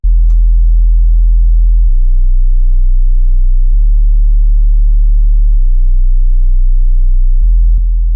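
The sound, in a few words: drill synth bass melody made in Serum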